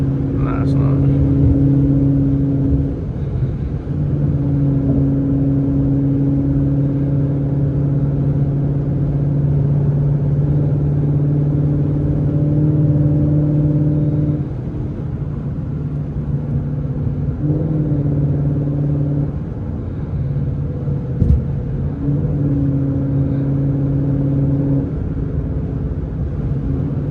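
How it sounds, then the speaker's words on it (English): A Ford Mustang's naturally aspirated V8 droning steadily at highway speed, a loud, continuous low engine rumble from inside the car that briefly dips and shifts pitch midway before settling back into its sustained tone. "That raw, naturally aspirated V8. It's music."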